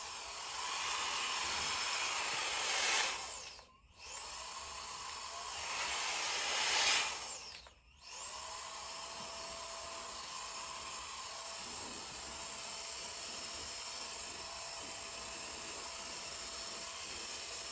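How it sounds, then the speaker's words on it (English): A hair dryer blows steadily close by while drying a wavy fringe, a loud continuous whoosh that twice cuts out briefly and restarts, then runs on evenly to the end without talking. "Blow dry from the bottom and scrunch."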